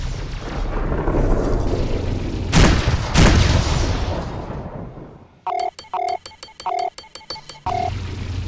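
Heavy booming explosions from incoming missiles in the space combat game Rebel Galaxy Outlaw, two loud blasts over a rumbling roar, then a sequence of beeping electronic warning tones.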